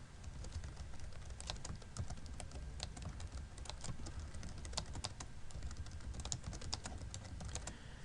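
Clinical information typed on a computer keyboard, a quick steady stream of close key clicks over faint background hiss.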